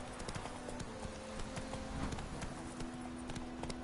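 Roach the horse gallops in The Witcher 3, rapid rhythmic hoofbeats pounding close and loud throughout over a low musical drone, with no voices.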